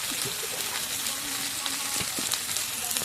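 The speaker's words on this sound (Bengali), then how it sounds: "সুন্দর করে মশলাটা কষিয়ে নিতে হবে" Spice paste (masala) sizzles steadily in hot oil for a country duck curry, a close, continuous crackle with small stirring knocks scattered through.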